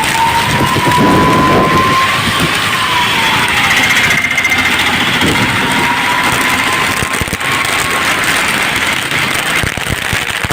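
Steady, dense rain roars continuously with gusty wind noise throughout in Tamil Nadu, India, a constant loud wash with no voices.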